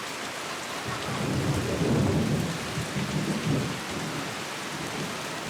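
A sudden, violent tropical storm near the equator in Indonesia brings heavy rain pouring steadily onto surfaces while deep thunder rumbles and swells in the middle, with no voices.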